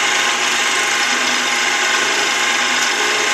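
A milling machine cuts a slot for a .22 LR shell holder, with the carriage moved back and forth in small passes. It gives a steady, close, dense grinding hiss that stays even throughout, with no talk.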